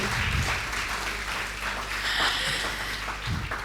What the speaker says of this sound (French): Acclamez d'abord pour vous qui êtes des autorités.